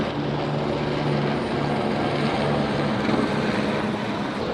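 A police helicopter passes overhead, its steady droning rotor and engine noise loud and continuous throughout, with no voices.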